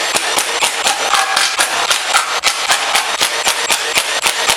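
An impact or air tool removes the timing chain cover bolts on a Ford Duratec 2.0 hybrid engine, making a steady run of sharp, evenly spaced rattling clacks up close, with no talking.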